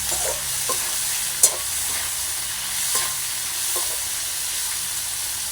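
Onions frying in oil until golden for Thai Poosam fried rice, a steady close sizzle broken by a few light scrapes and clicks of a stirring spoon.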